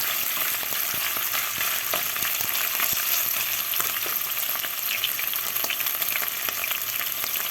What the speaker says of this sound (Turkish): Şimdi etlerim biraz kavrulsun yağda.